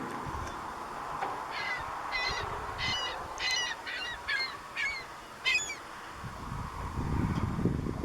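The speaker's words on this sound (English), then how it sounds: "And seagulls." Several seagulls call in a quick series of nasal cries at middle distance, over a steady outdoor rumble of traffic, water and wind at Lake Champlain.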